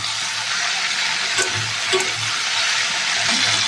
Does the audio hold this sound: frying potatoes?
yes